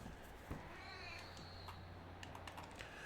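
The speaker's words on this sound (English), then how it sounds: "The way that she meows" A pet cat meows faintly in a quiet room, with soft clicking taps nearby.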